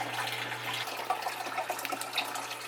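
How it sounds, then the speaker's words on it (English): A water change pump moves water from a 5-gallon bucket into a reef aquarium sump, giving a steady, soft splashing and trickling of flowing water with a faint low hum underneath. "I'm going to use my handy dandy water change pump to get this water out of this 5-gallon bucket and into the sump"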